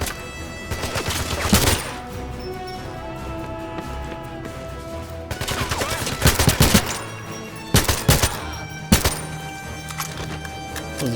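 Gunfire in the video game 007 Legends: sharp, loud shots in separate clusters, quick bursts and single cracks with short gaps, over a steady hum of game ambience.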